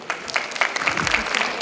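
Audience applause at an alumni meet gathering, steady dense clapping throughout with crowd noise and a host's voice faintly mixed in.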